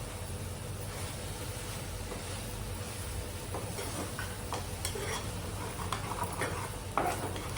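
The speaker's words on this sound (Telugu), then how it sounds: "ముందే ఉడికిన చేప కదా, పొడి పొడి ఆడేట్టు వేపుకుంటే చాలు." Boiled fish pieces being fried dry in a pan, a steady sizzle with occasional stirring clatters and light scrapes, close and continuous, no talking.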